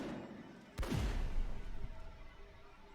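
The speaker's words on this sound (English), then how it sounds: "I'll take a few pot shots here," A sharp gunshot blast rings out in a cave shooter game, followed by a booming low rumble that rolls and decays over a couple of seconds, with faint ambient noise before it.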